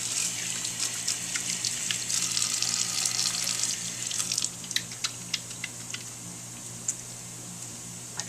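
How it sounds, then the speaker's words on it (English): Tap water runs steadily for hand washing at a sink in a dental hygiene clinic operatory, a continuous splashing rush for about four seconds that then stops, leaving scattered drips and small clicks. "Wash and dry hands."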